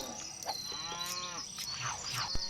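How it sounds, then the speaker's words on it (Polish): Cows mooing in the LEGO City Undercover video game on a farm setting, a drawn-out low moo in the middle with shorter calls around it and faint crickets, no talking. "Ile tu krów jest?"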